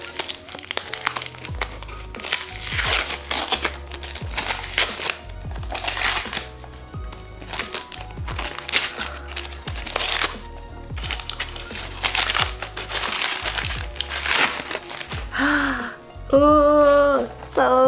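Crinkly plastic and paper packaging of newly delivered business cards being torn and handled at close range, with repeated crackles and rustles, brief pauses, and a voice near the end.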